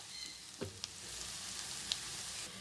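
An egg and garlic thokku sizzles steadily in a pan on the stove, a soft continuous frying hiss broken by a few faint scrapes and clicks of stirring.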